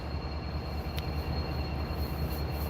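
A manifest freight train rolls through Ooltewah at night, heard as a faint, distant, steady rumble with a thin high tone above it.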